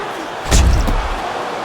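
Heavy padded punch to the head in the Fight Night Champion boxing video game, a single loud, close thud over steady crowd and arena noise.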